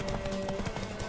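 Roach, the horse in The Witcher 3, gallops with fast, rhythmic hoof beats under a low steady background, briefly and at a moderate level, with no talk.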